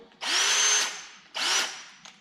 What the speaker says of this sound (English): For this we're going to use a spot weld drill bit.